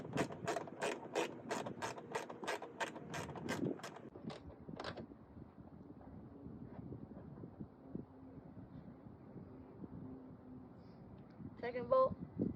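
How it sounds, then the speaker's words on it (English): Ratchet wrench working on the mud flap bolts of a Toyota Tacoma, a fast run of sharp, close clicks that slows to a few separate ticks, then quiet handling noise and a brief clatter near the end. "Third bolt down here, which I'm going to use the extension for the ratchet to get out."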